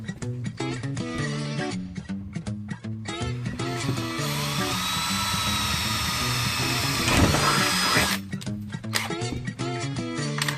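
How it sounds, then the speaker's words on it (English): A power drill whines steadily as it bores a hole in a wooden bed frame inside an Iveco camper van build. The motor rises in pitch once the bit bites, with brief pauses and short bursts before and after the drilling. "I'm going to drill that now"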